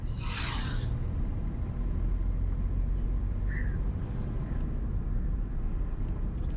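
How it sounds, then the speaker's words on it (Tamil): Steady, loud engine and road rumble from inside a car as a beginner driver accelerates and shifts up through third, fourth and fifth gears; the drone stays continuous without distinct gear-change breaks. "இப்போ நான் வண்டி பிக்கப் எடுக்க போகிறேன் பாருங்கள்"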